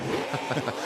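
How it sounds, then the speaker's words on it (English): A loud NASCAR Craftsman Truck Series race truck engine held at high revs, stuttering in quick repeated pulses as it bounces off the limiter, close and continuous. "That sound is the rev limiter too"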